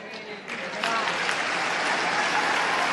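A crowd at a Hanuman Katha religious gathering in Bhilai claps in a dense, sustained burst of applause that swells after the first second and holds steady, with a voice speaking over it.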